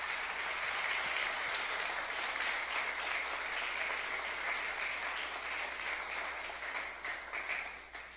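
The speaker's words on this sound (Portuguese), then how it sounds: "Vamos aplaudir ao Senhor por isso?" Church congregation applauding together, a sustained wash of many hands clapping in a reverberant hall, steady before slowly tapering off.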